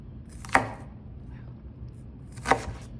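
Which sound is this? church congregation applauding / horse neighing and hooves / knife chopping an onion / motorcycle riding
knife chopping an onion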